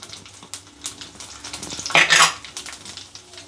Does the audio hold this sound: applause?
no